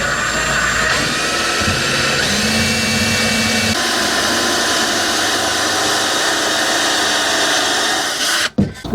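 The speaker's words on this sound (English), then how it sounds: "So let's drill the other side." A power drill whirs steadily through a motorhome kitchen counter during installation, loud and close, with the motor pitch shifting partway through before cutting off near the end.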